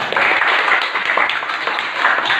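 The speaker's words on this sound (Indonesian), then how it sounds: "Silakan tepuk tangan." Students in a classroom clap together in a steady, moderately loud burst of applause lasting a couple of seconds.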